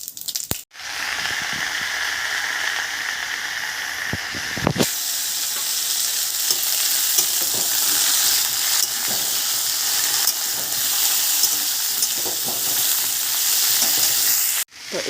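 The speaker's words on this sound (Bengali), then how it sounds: "তো এবার এগুলো হচ্ছে লাল লাল করে ভেজে নেব" Potatoes and pointed gourd frying in oil, a loud continuous hissing sizzle close by with occasional stirring clatters, no talking.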